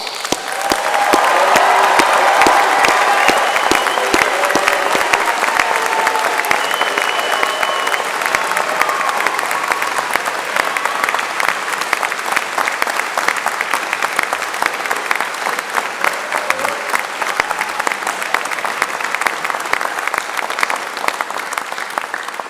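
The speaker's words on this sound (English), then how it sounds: "give our graduating students today one final, uproarious round of applause for what they have achieved" Sustained, loud applause from a large audience at a university graduation congregation for graduating Health, Education and Life Sciences students, steady dense clapping with some crowd noise throughout.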